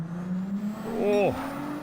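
A Ferrari race car engine in Gran Turismo 7 holds a steady drone, then a rising, revving pitch swells near the end for about a second before dropping away as the car accelerates past.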